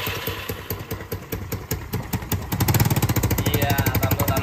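A bored-up 130cc Mio Soul motorcycle engine with a leaking exhaust runs close by, its rapid popping firing pulses chattering unevenly and then growing louder and steadier near the end.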